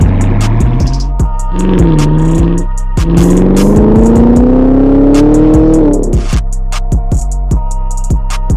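A modified Chevrolet Camaro ZL1 roars hard through a 60 to 130 mph acceleration run, its loud engine note climbing steadily through gear pulls with brief shift breaks before cutting off into quieter ticking and rattle.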